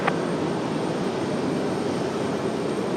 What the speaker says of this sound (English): caution more turbulence, heavy A350 departing now